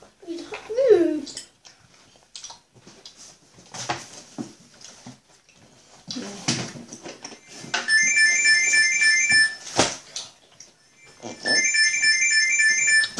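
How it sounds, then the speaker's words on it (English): A phone ringtone rings in two repeated electronic bursts of tonal chirps, moderately loud, with people chatting and moving around it indoors. "it's just our phone ringing"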